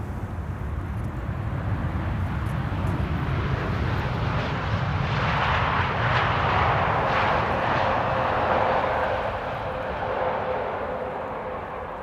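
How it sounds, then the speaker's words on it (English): Jet roar from TUI flight 372 arriving from Willemstad, Curaçao, builds to a loud, close, sustained rush with a thin tonal whine appearing late, then eases slightly near the end, heard alone without voices. "TUI flight 372 returning from Willemstad,"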